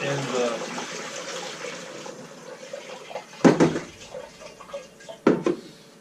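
Liquid is poured aggressively through a funnel into a carboy, a steady watery rush that fades after a couple of seconds, followed by two sharp knocks.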